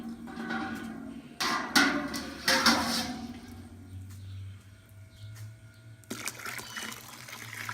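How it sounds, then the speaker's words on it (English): Sparge water is poured into a homebrew mash tun for an all-grain IPA, with splashing, pouring bursts and clanks of a pan up close, then a quieter trickle and a low hum. "Okay, got all the sparge water in there."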